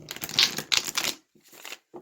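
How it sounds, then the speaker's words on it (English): Tarot cards being shuffled by hand in several quick, riffling bursts of papery flutter, close up, with brief pauses between the bursts. "I'm being guided to shuffle one more time"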